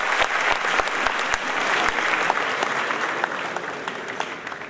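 Sustained applause from a concert-hall audience at an award ceremony, dense and steady clapping with a few louder individual claps, filling the whole stretch without talk.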